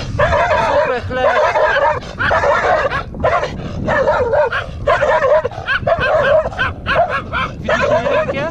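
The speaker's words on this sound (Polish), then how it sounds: "Chamskie psy." Dogs in rural Georgia bark loudly and nearby in rapid, insistent bursts, several voices overlapping with yips and whiny yelps almost without pause.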